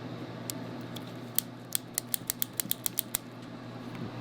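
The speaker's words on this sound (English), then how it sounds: "Can we hear that key click?" A run of small, sharp metallic clicks from the ignition key of a Polaris Trail Boss ATV, a dozen or so quick ticks close up over a low engine-like hum.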